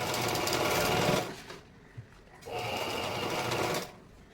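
Sewing machine stitching a blouse, a close, steady mechanical whirring run that pauses briefly with a small click, then starts again for a second stretch of even stitching.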